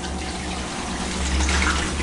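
Three cups of pickle juice poured into a bowl for a pheasant brine, a steady close splashing pour that swells slightly louder toward the end, with no talking.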